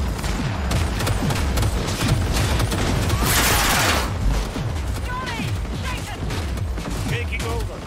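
Rapid bursts of automatic gunfire in Cyberpunk 2077, loud and sustained with a dense rattling barrage and a brief noisy blast midway, layered over game music and mechanical clatter.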